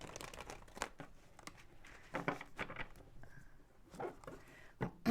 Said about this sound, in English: Let's do 2 more shuffles, please.